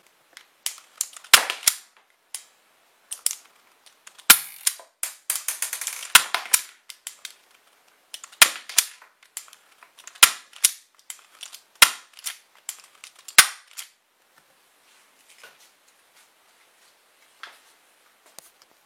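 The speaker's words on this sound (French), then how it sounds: "lorsqu'on tire avec une réplique d'Airsoft" Shots from an airsoft Glock 26 replica pistol with an ABS body: a dozen sharp, snappy cracks fired singly at irregular intervals, close and loud, with a short rapid cluster in the middle and quiet gaps between.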